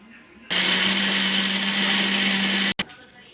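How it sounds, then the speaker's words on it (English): An electric kitchen grinder whirs loudly and steadily for about two seconds, coarsely chopping onions for a chutney, then stops abruptly with a brief clatter. "Now add the cut onions into that, and again you have to grind this."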